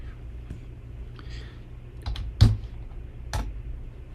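Keystrokes on a computer keyboard, a sparse handful of soft clicks with one sharper tap in the middle, heard close and quiet against a faint room hum.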